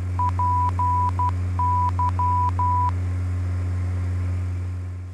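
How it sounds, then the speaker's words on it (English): A steady tone beeps out an aviation NDB navigation beacon's Morse code identification sequence of short and long pulses over a constant low hum, then stops. "listen to the Morse code signal to confirm that it is the correct one"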